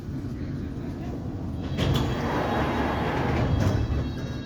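A London Underground District Line train arrives at Stamford Brook with a steady low rumble and rattle of wheels on track. The noise grows louder and rougher toward the end as it slows, and a voice talks faintly underneath.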